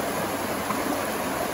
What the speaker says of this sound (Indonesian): Kebetulan sekarang airnya lagi naik, guys.